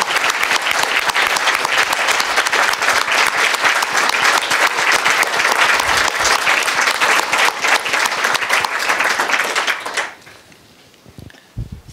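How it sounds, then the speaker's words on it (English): Loud, sustained applause from an audience closing a university inaugural lecture, dense clapping for about ten seconds before dropping off abruptly to quiet with a few stray claps. "Let's give Steph another round of applause."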